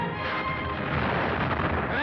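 A torpedo strikes a ship in a 1960 war film, a dense, sustained roar of explosion and rumbling debris filling the short span at steady loudness.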